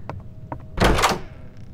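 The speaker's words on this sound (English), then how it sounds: "does that door open?" A door in a horror video game opens with a short dull thunk and a brief scraping rush, preceded by a few faint clicks, alone and fairly close.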